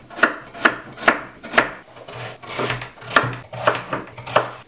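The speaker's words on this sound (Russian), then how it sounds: "Нарезаем сначала на пластинки, а затем будем нарезать на брусочки." A knife slices cabbage into sticks on a cutting board, giving about nine steady, evenly spaced cutting strokes close by, with no talking.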